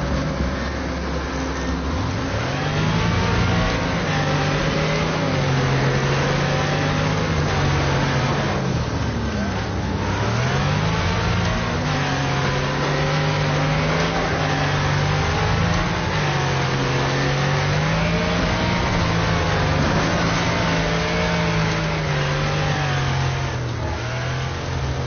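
A race car in Wreckfest revs and accelerates continuously, its engine pitch rising and falling through gear shifts, loud and steady throughout with no talk over it.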